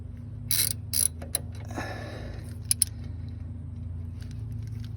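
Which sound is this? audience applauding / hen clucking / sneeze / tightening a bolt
tightening a bolt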